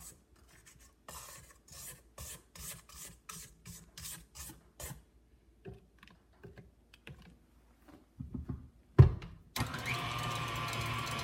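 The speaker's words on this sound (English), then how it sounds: "I just want to scrape the sides of the bowl" A spatula scrapes the sides of a mixing bowl holding meringue, a series of short, rhythmic rubbing strokes at close range, followed by a clunk and a louder rushing whir of mixing.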